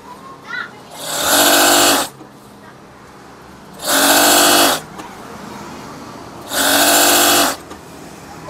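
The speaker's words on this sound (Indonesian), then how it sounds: "Sewing." A sewing machine stitches curtain fabric in three loud, close bursts of about a second each, with quiet pauses between them.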